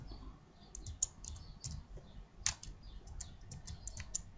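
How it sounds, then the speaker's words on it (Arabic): Someone types on a computer keyboard while editing in Filmora 9, producing quiet, close clicking keystrokes in uneven bursts, with a few sharper clicks standing out. "خلنا نفترض اكتب اكتب مثلا اكتب انجينير"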